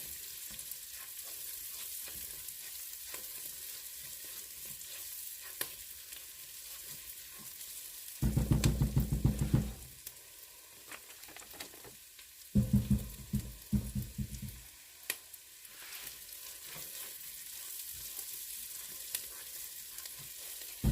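Onions sautéing in a pan for Southern collard greens, with two loud bursts of crackling sizzle, each lasting a second or two, standing out over a quieter kitchen background.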